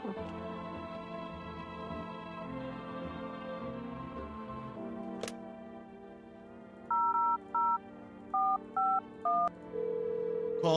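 Telephone keypad dialing in the horror video game No, I'm Not A Human, a run of six short electronic tone beeps in quick sequence after a low droning background, then a steady tone.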